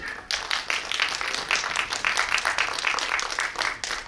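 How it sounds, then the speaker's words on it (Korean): A movie theater audience at a film guest-visit event in a Seoul multiplex applauds steadily for about four seconds, a dense wash of clapping from many hands that swells slightly and then tapers. "다시 한번 박수 부탁드리겠습니다."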